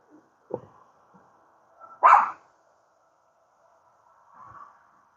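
A dog barks a few times, spaced apart, one sharp bark louder than the rest, against a quiet background with a faint steady hum.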